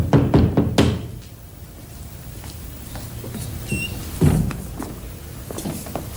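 Knocking on a house door in a Hindi comedy sketch, a quick run of several sharp raps at the start and a single later knock, against a steady room background with no speech.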